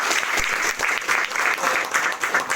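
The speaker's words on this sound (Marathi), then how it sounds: "सगळ्यांनी टाळ्या वाजून स्वागत केलं" Steady applause from an audience clapping together at a farewell ceremony to welcome a guest, dense and continuous for the whole stretch with no voices on top.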